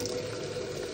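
Water poured into air coolers to refill them, a steady continuous splashing and trickling stream close by, with no talk.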